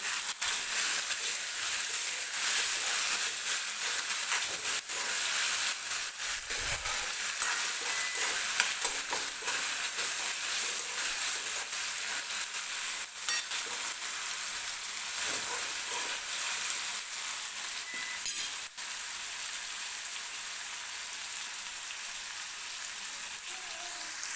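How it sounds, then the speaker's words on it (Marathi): Tomatoes and onions roasting in a pan for dal kanda, a continuous soft sizzle with steady scraping stirs throughout, one low thump midway, no speech. "आता मी टोमॅटो टाकून घेते टोमॅटो पण व्यवस्थित सॉफ्ट होईपर्यंत भाजून घ्यायचं आपल्याला"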